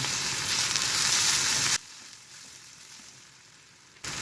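Sesbania (hatga) flowers go into a hot pan with garlic, turmeric and chili flakes and fry with a loud, steady sizzle that suddenly drops to a softer, quieter hiss partway through, then flares again at the end.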